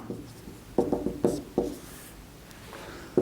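Pen scratching on paper while writing out a maths solution, several short close strokes in an uneven rhythm over a faint room hiss.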